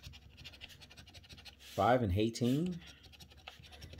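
Faint, rapid scraping of a coin over a Maryland Win Win Win lottery scratch-off ticket runs throughout, quiet and rhythmic, with a voice briefly reading numbers over it.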